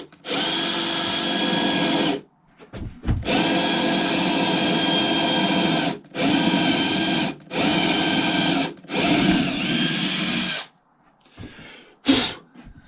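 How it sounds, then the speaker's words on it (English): A power drill bores holes in a metal plate for a sim racing cockpit, loud and close, in several sustained bursts of whirring separated by short pauses. "Now I can drill those holes."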